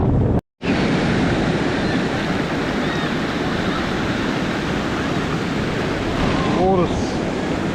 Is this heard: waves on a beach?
yes